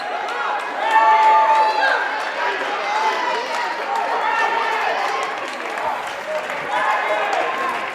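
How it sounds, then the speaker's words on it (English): Home crowd at a Hazen high school boys basketball game against Montpelier, a steady roar of chatter and cheering filling the gym as a player checks in, swelling briefly early on and staying loud throughout. "you hear the Hazen crowd getting loud a little bit as Dylan Perry checks in"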